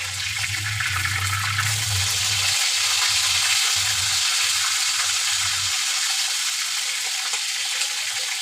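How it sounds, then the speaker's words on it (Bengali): Hilsa fish pieces hit hot oil in a wok and set off a loud, continuous hiss and crackle of frying that holds steady throughout, with a low hum fading underneath. "মাছগুলো আস্তে আস্তে দিয়ে দেব"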